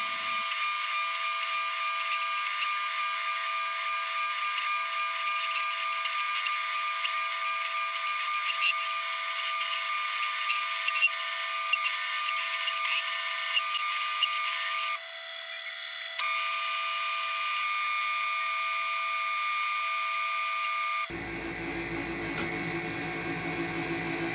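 Syil Mini CNC mill roughing out a tool holder shank, shown sped up: a steady high-pitched whine and hiss of cutting that holds for about twenty seconds, shifts briefly midway, then gives way to a lower, rougher noise; no speech.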